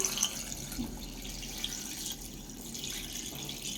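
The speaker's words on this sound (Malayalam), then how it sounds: "ഇനി നമ്മൾ ഇതിലേക്ക് 2ാം പാൽ ഒഴിച്ചു കൊടുക്കാം" Second coconut milk is poured into a cooking pot with onions for a home-cooked lunch, giving a steady, soft liquid stream and splashing that continues evenly throughout at moderate loudness, with no talking.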